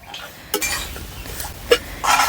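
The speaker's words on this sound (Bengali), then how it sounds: "ঘিয়ের সাথে সুজিটা একটু ভালো করে নেড়ে চেড়ে ভেজে নেব" Semolina fried in ghee in a pan is stirred with a utensil, giving soft scraping and a few sharp clinks against the metal over a faint, low sizzle.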